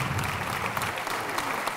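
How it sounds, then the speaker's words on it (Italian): Dense concert-audience applause, steady and loud for the whole stretch, fills the space at an outdoor performance on Monte Gelbison. "Io vi chiedo un applauso perché c'è il presidente"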